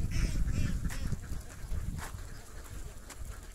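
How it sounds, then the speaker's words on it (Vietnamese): A crowd of ducks quacks continuously at a rural duck farm in the Vietnamese countryside, with loud overlapping calls close by. "Nhiều vịt lắm các bạn ơi."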